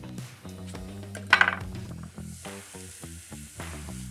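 Strawberries with caster sugar and lemon juice hitting a hot pot give a soft sizzle with a brief louder burst near the middle, alongside light stirring and occasional pot clinks, fairly close.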